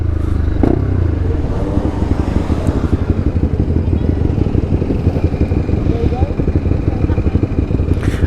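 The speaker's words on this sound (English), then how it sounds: "Ooh, bike." A motorcycle engine pulses loudly and continuously up close in traffic during a ride among 125cc bikes, with a brief clatter near the start and talk over it.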